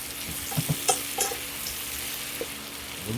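Sausage and shrimp with sauce stirred together in a sizzling pan, soft steady sizzle with a few scraping spoon knocks early on, fairly quiet and without talk.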